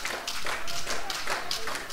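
A wrestling crowd in Mullens, West Virginia claps and cheers for the wrestler Wildthing, with steady broadband applause and scattered cheering holding at a constant level throughout.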